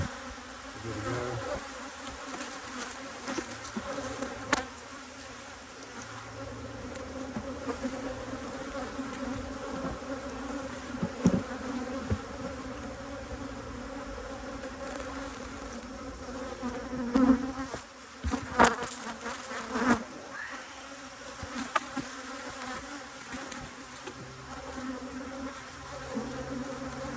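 Honey bees buzzing at an open hive during a colony inspection, a continuous close droning hum with individual bees passing near, brief clunks of equipment; no voices.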